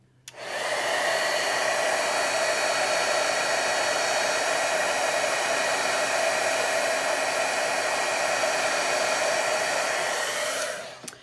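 An embossing heat tool blows hot air in one loud, continuous whoosh for about ten seconds, starting and stopping abruptly, with no speech.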